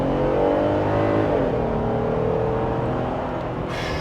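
2026 Jeep Wrangler Rubicon with a 3.6 liter V6 accelerating hard, a loud steady engine drone that climbs in pitch before easing off as it shifts, heard from inside the vehicle.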